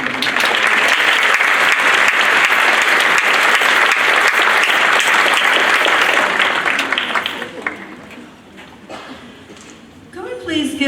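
A graduation ceremony audience applauds loudly and steadily for several seconds, a thick wash of many clapping hands that fades away toward the end, leaving quieter room noise and a brief sound at the close.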